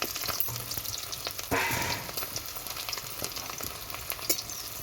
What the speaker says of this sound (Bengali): তেল গরম হয়েছে এখন পেঁয়াজ কুচি লঙ্কা কাঁচা লঙ্কা চেরা